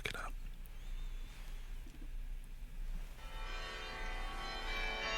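Soft bell chimes ring in a jazz music track, sustained shimmering tones entering quietly under faint background murmur.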